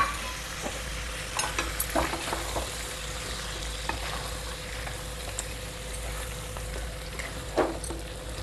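Spicy pepper chicken sizzles and fries in a pan, a steady close crackle with occasional stirring scrapes and small pops throughout.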